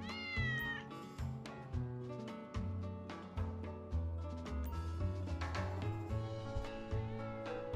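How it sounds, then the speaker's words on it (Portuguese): A cat meows repeatedly in the video game GTA 5, several distinct calls rising over a steady backdrop of game music and ambience. "Olha o gato lá, velho."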